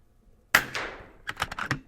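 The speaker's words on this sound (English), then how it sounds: "Just for fun, I'll shoot 3 more into that group right there just to see." An FX Impact M3 air rifle fires pellets: one sharp, loud crack with a short ringing decay, then a quick cluster of lighter clicks and knocks close by, with no talking.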